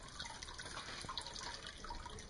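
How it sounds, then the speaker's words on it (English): Water running steadily through a finished decorative indoor fountain, a close, continuous trickling and splashing with bright dripping accents and no talking. "So here's the finished fountain."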